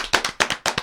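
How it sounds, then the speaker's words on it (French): A few people clap for a guest being introduced, sharp close-up claps in an uneven rhythm, about six distinct strikes heard clearly on their own. "On peut l'applaudir."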